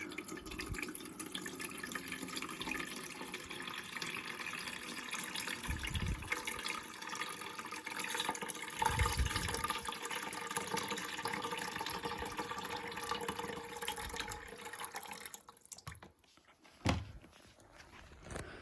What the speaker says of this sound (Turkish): Şu ortadaki yere kadar suyu koyuyoruz.